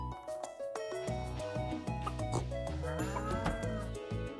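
A goat bleats in the farming video game Stardew Valley Expanded, a tonal, wavering animal call set against steady harmonic background music that plays throughout.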